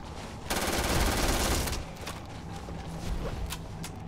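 Rapid automatic gunfire from a gun in Starfield bursts loud and close for about a second, followed by scattered single shots and clatter amid the din of combat.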